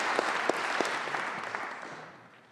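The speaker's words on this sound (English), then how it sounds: "Let's give them a round of applause." A crowd at a 2022 high school graduation ceremony in Scottsdale applauds the graduating class with dense, sustained clapping. The applause gradually fades out over a few seconds.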